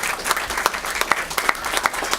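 A board of education meeting audience breaks into brief, steady applause, many hands clapping together at close range with no talk over it.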